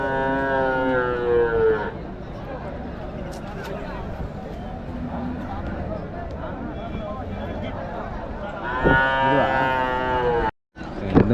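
Cattle low at a Friday livestock market in Uthangarai, with long, deep moos at the start and again near the end, close and loud, over a steady murmur of crowd noise and voices.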